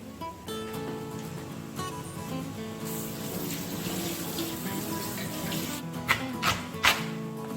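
A kitchen tap runs steadily while peeled sweet potatoes are washed under it, and a few light knocks and splashes come near the end.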